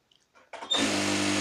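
A sewing machine stitches a petticoat, starting with a few faint clicks before the motor spins up into a steady, loud whirring hum that runs unbroken to the end.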